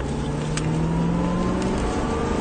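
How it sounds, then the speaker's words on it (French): A rally car, an Aston, pulls hard out of a corner with a steady, loud engine drone rising slowly in pitch, heard close from inside the car, a couple of brief clicks or knocks mixed in. "il n'y a plus qu'à accélérer"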